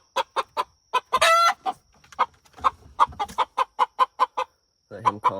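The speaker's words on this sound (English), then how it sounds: "Too bad you're the most annoying rooster in the world" A rooster clucks repeatedly in quick, rhythmic bursts, close and loud, with one brief louder squawk among the clucks.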